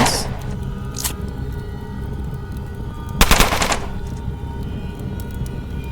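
SMG fire in the turn-based game Underrail: a short, fairly loud burst of rapid shots after a brief earlier crack, set against a steady electronic hum with little speech.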